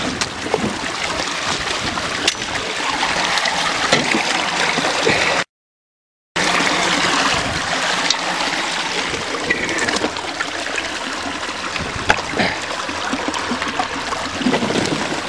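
Spring water flows steadily into a farm pond after a valve is closed, a continuous rushing, gurgling stream heard up close and fairly loud, broken by one brief silent gap.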